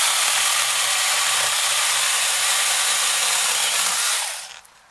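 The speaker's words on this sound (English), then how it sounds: "It is quite easy to stall compared to larger chainsaws" A small chainsaw cuts through a branch about two inches thick, a steady, loud, high buzzing whine that holds evenly for about four seconds and then cuts off as the saw finishes or stalls.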